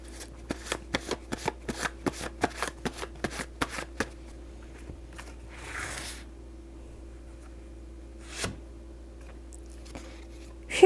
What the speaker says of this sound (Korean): 그럼 마지막으로 아보카도님을 위한 조언 한 장 뽑아보도록 하겠습니다.